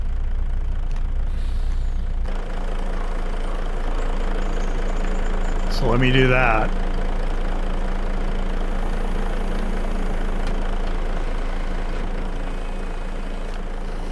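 A truck engine idles in Farming Simulator 25, a steady low mechanical drone running throughout, while someone talks briefly over it midway.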